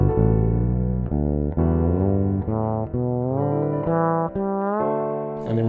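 Fretless bass notes glide smoothly upward one after another in slow, even steps, each slide clear and sustained, played alone without voices.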